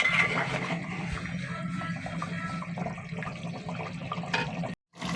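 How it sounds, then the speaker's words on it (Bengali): Beef that was boiled first now fries on high heat, a steady dense sizzle with a low hum and faint scraping under it, loud and continuous before stopping briefly near the end. "মাংসটা একবারে ভাজা ভাজা করব।"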